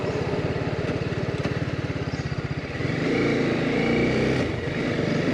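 A motorcycle on a long highway ride between Coimbatore and Mysore. A close, pulsing engine thrum gives way to a steadier, louder drone with wind rush as it moves along the road.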